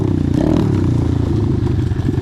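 Engine of an Apollo DBX15 Chinese pit bike while riding, a loud close steady putter with rattling clatter throughout, no voices.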